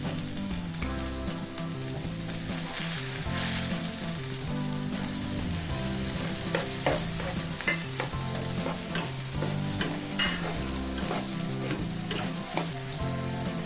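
Masala sizzles and fries steadily in a pan as finely chopped, washed tomatoes are stirred in for a spicy drumstick curry. Close-up crackling runs throughout with scattered stirring clatter, and no one speaks.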